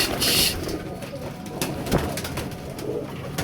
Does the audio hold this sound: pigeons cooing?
yes